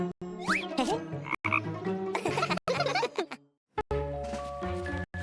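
Several deep frog croaks sound close by amid a busy, playful mix of tones and chimes, with brief pauses between bursts.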